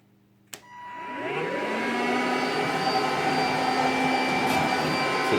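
Hoover cordless vacuum cleaner switching on after a click, its motor spinning up within a second into a loud, steady whine with a rushing airflow hiss that holds constant, nearby and alone.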